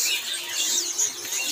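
Bright, high-pitched bird chatter from a Nias hill myna, a steady stream of whistles and chirps, moderately close, with no talking.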